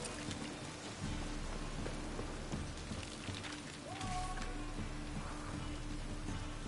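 Steady rain hisses throughout the Monster Hunter game scene, with low thunder rumbling beneath it, alongside faint game sounds and no speech.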